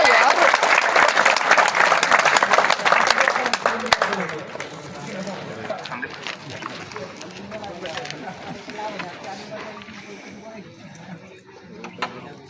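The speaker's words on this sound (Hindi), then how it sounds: "तालियां तालियां तालियां जोरदार।" An audience at a National Safety Week event in Jamnagar breaks into loud, dense applause for about four seconds before it thins out and fades, with people talking over and after it.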